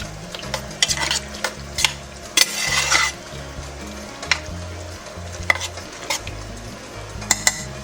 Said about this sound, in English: And let's give this a good